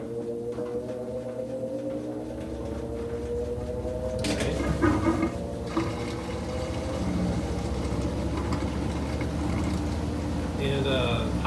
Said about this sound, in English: And then you want to get your drain pump ready to run.